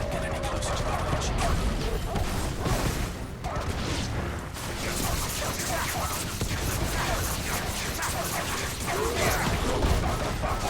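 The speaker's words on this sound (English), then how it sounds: "Wolves. We can't let them get any closer to the village." Wolves growl and bark in the Final Fantasy XVI video game, a dense, continuous stretch of snarling and yipping mixed with clashing combat effects and a steady game backdrop, with no voices over it.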